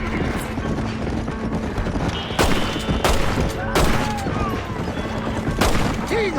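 Gunfire in the Western video game Red Dead Redemption: several sharp, loud shots ring out at irregular intervals over a busy background of hoofbeats and game ambience, with a voice speaking in places.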